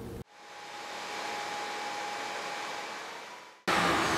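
A Ridgid shop vacuum draws air through an Oneida low-profile Dust Deputy cyclone separator, starting abruptly into a steady, loud rushing whine with a faint tonal hum, then cutting off sharply.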